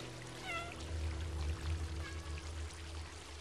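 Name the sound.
cat meowing in video game Stray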